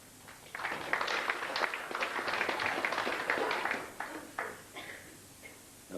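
Audience applause at a 2003 WEPF men's semi-final pool match, a short burst of clapping from a crowd that swells for a few seconds and then tapers off.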